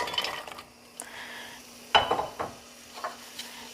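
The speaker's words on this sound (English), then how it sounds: "I'm just gonna let this saute for a little bit. I want things to kind of sizzle." Carrot, onion and garlic sauté in a pot with a soft, steady sizzle, broken by clinks and scrapes of a utensil stirring against the metal, close by with no talking.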